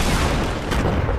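Rocket explosions in a Fortnite match, a dense loud burst of booming blasts and crackling debris packed into about a second, close and overwhelming with no speech.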